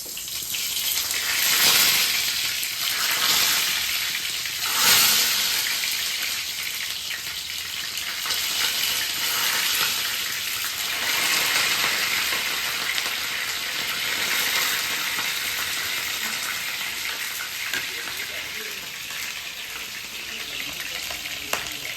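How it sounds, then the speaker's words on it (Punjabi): Bitter gourd (karela) frying in hot oil, a steady close sizzle and crackle with occasional stirring swells that continue without pause. "ਹੁਣ ਆਪਾਂ ਇਹਨੂੰ ਹਲਕਾ ਜਿਹਾ ਤੇਜ਼ ਕਰਕੇ ਤੇ ਕਰੇਲਿਆਂ ਨੂੰ ਆਪਾਂ ਇਹਦੇ ਵਿੱਚ ਫਰਾਈ ਕਰਦੇ ਹਾਂ"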